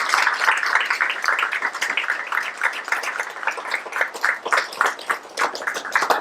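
Theatre audience applauding after a stage play, a dense, fairly quiet patter of many hands that carries on steadily, with faint voices mixed in.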